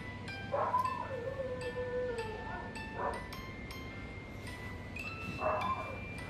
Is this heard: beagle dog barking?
yes